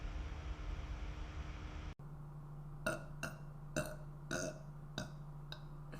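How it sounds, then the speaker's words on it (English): A woman burps in a series of short, repeated belches after a burst of hiss, close and clear, each burp separated by brief pauses. "There we go. I burped."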